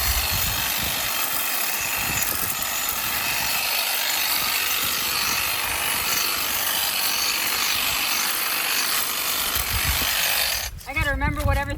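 A power tool drones loud and steady throughout a vegetable garden cleanup, a continuous buzzing whine that cuts off near the end as a voice briefly begins.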